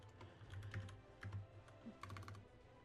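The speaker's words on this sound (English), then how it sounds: "you hear me typing on the keyboard." Clicky computer keyboard typing during an online game match, a few short bursts of quick keystrokes with brief pauses, close and fairly quiet.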